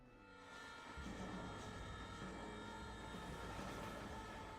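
A train rolling along in the Red Dead Redemption video game, a steady, moderately quiet rumble with faint high tones that swells in after a moment and holds with no talk over it.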